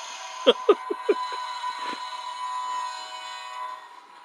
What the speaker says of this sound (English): this toy train crossing we got from Big W in Australia several years ago